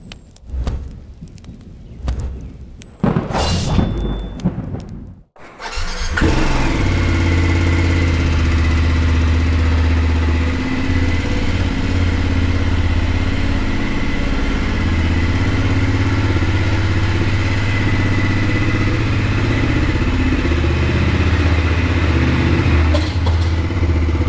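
A motorcycle engine starts after a few seconds of handling noise and then idles steadily and loudly for about twenty seconds, a constant low rumble before a ride onto the motorway in rainy mountain weather.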